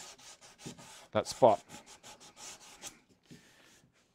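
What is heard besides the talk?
sanding wood with sandpaper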